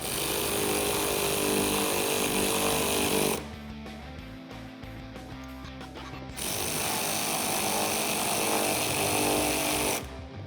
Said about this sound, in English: And now we can tighten them up with an 8mm socket